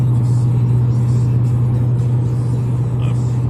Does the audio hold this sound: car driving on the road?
yes